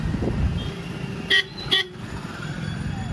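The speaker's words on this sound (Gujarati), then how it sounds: "ટ્રાફિક તો બહુ જ દેખાઈ રહ્યું છે કેમ કે આજ શનિવાર છે" Busy Saturday road traffic near a market junction hums steadily while two short car horn toots ring out close together, clear and fairly near above the engine noise.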